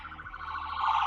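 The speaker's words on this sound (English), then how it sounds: "It's a little ambulance." An ambulance siren wails outside, a steady rising and falling electronic tone heard continuously at moderate distance, growing slightly louder toward the end.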